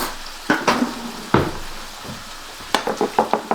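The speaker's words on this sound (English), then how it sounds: "Gotta mix this up real good" A spoon stirs keto lasagna filling in a pan, giving a handful of scraping, clinking strokes with a short pause in between and a quicker burst toward the end, over a faint sizzle.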